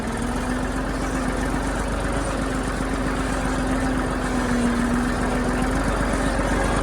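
A tractor engine idles steadily close by in a castor field, a continuous low rumbling drone with a faint steady hum that never changes pace.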